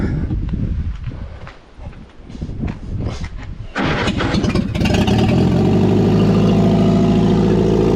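Old Lansing Bagnall tug that has sat outside for many years cranks over roughly, coughing and sputtering, then catches and settles into a loud, steady idle close by.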